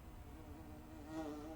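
A housefly buzzes steadily in a Breaking Bad episode, faint against a low background hum, with the drone swelling slightly toward the end.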